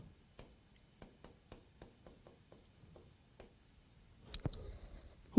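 Pen writing out a list by hand, with a series of soft, close scratching strokes in an uneven rhythm and a slightly louder rustle near the end, with no talking.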